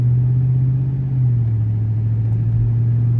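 A 400hp Dodge Charger on a wet, rainy road gives a loud, steady low engine drone that dips slightly partway through. Rumble fills the cabin and no one talks.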